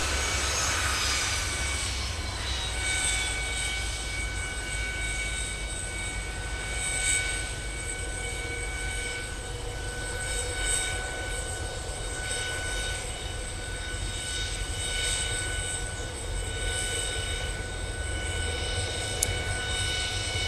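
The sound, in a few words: Boeing 717 jet with BMW Rolls-Royce engines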